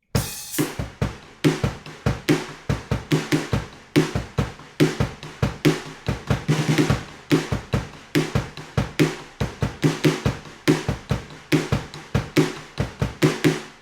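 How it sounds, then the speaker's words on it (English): Drum kit playing the snare and snare-rim part of a song: a steady run of sharp, close rim clicks and snare hits in a quick, even rhythm, loud and with no voices. "So the whole kind of snare rim part sounds like this."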